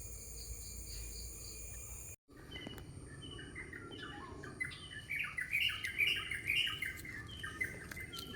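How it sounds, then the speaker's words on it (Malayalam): A flock of birds calls from a small jackfruit tree, with scattered chirps and tweets that grow busier and louder partway through, over a steady background of insect and cricket buzz after a brief cut. "എന്നെ കണ്ടപ്പോൾ കിളികളുടെ ഒച്ച കേട്ടോ?"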